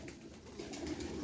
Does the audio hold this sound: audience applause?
no